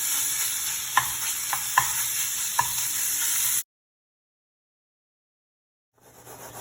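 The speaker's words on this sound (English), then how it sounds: "we're going to add the Italian sausage" Italian sausage fries in a pan over medium heat with a steady close sizzle and a few sharp pops. It cuts to near silence for a couple of seconds before the sizzle returns.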